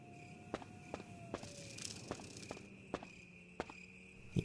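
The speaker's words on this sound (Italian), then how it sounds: "I grilli notturni." Night crickets in a Resident Evil garden give a steady, thin chirping drone, quiet in the background beneath a regular run of footsteps.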